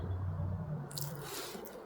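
Soaking wet, smelly garden material squelches and drips in a cold garden, a brief wet squish followed by soft crackling, close and fairly quiet, with no talking.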